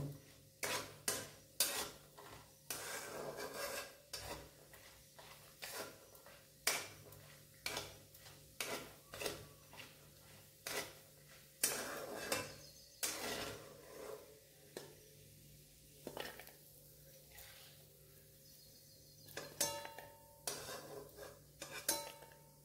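Cashews stirred in a pan for vegetable fried rice, a spoon scraping and clinking against the metal in quick irregular strokes, close and fairly loud over a low steady background.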